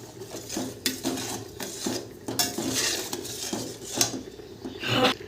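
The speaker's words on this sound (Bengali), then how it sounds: "হলুদ নুনটা ভালো করে মিশিয়ে নেব" Utensils scrape and clatter against a pan as turmeric and salt are mixed into Bengali-style ripe jujube chutney, with irregular metallic clinks and stirring strokes over a low background hum.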